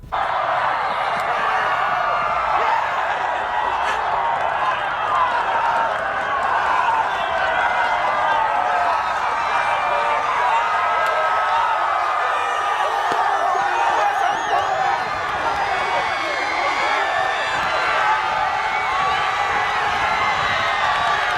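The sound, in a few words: soccer crowd cheering goalkeeper's celebration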